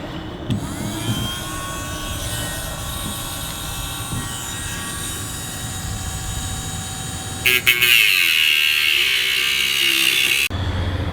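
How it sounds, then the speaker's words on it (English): A Dremel cuts plastic drone propellers, a steady high motor whine with grinding underneath, which shifts into a harsher, louder buzz near the end before abruptly stopping. "we're gonna cut these things now with this Dremel"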